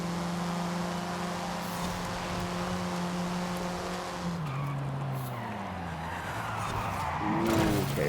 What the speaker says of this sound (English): Okay, brakes locked up there.